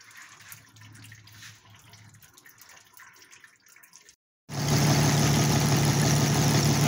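An old engine left 23 years in a barn runs with its choke mostly out, a loud, steady, rough drone that starts abruptly after a quiet stretch of faint rustling and a brief silence.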